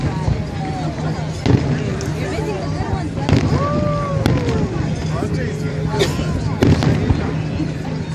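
Crowds watch a Fourth of July fireworks show at Navy Pier in Chicago in 2013. Loud booms and crackling bursts arrive every second or two over constant crowd chatter and nearby voices.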